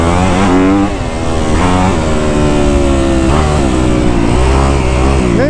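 Kawasaki KX250F dirt bike engine running loud and close while ridden, its pitch climbing and dropping repeatedly as the rider works through gears and throttle, with no talking.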